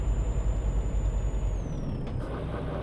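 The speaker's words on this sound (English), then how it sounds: "ooh, I hit the brakes so hard" A heavy truck in Euro Truck Simulator 2, driving in Sweden, lets out a loud, steady air-brake hiss under hard braking over a low engine drone, with a whining tone that drops near the end.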